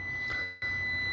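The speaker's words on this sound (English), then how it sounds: "I'm sorry for the beeping sound." A steady high-pitched electronic beep sounds close by, with one short gap in the middle, over a low background hum.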